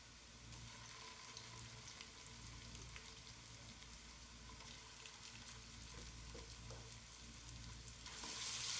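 Ginger garlic paste frying with golden-brown onions in a pan for chicken aloo pulao: a faint, steady sizzle with light stirring scrapes, swelling louder at the very end, with no talk.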